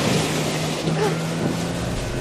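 A motorboat engine in the horror video game The Devil in Me drones steadily and loudly throughout, mixed with water wash and wind, with no one talking over it.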